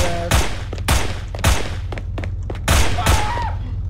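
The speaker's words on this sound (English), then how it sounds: "I'm actually shooting these guys, and they're not dying" Gunshots fired at NPCs in the SinVerse video game, a series of loud, evenly spaced single blasts with booming low ends, no talking.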